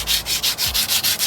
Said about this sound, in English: we're going to be sanding it with, looks like 600 grit or 800 grit sandpaper,